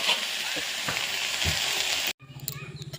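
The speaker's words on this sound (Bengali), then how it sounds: "ভাজাটা করে নিচ্ছি।" Food fries in a pan in a home kitchen: a steady, close sizzle with a few soft stirring knocks, then it cuts off abruptly and quieter clatter follows.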